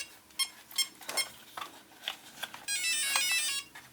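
The motor controller of an RC car gives a series of short, faint electronic beeps in an uneven rhythm after being plugged in, ending in a longer sustained tone.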